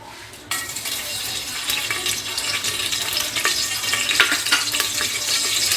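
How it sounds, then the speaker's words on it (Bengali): Whole garam masala of bay leaf, cinnamon, cardamom and clove dropped into about half a cup of hot oil, which bursts into a loud sizzle that holds steady with light crackles and stirring, and no voices. "মশলাটা একটু ভেজে নেব।"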